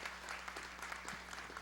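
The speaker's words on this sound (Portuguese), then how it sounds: "Uma salva de palmas." A ceremony audience at a solemn session honoring Portugal Day claps in a brief, fairly distant burst of applause over a steady low hum.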